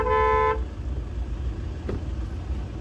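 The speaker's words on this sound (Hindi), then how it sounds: "प्लीज़ ये हॉर्न बजाने से कुछ नहीं होगा, गाड़ी मूव मैं नहीं कर सकती हूँ." A car horn in traffic near Majnu ka Tilla, Delhi gives one loud, short, tonal honk at the start. A low rumble of road traffic and engine noise continues after it.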